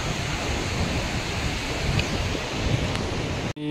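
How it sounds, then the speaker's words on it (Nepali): A 21-metre waterfall on a trekking route near Sikles, Nepal, gives a steady, loud broadband roar of rushing water that continues unbroken and close by, with no voices. "झरना"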